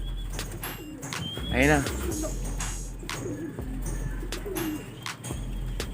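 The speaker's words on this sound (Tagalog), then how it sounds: "Nagloko mga kalapatids." Racing pigeons on a loft roof give a clear cooing call, near and distinct, amid ambient outdoor noise while people talk.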